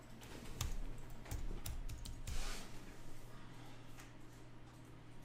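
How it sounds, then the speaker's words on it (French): Typing text on a computer keyboard during image editing work, a handful of distinct clicky keystrokes in irregular bursts over a faint steady hum, close and fairly quiet, with no talking. "Là, je tape du texte."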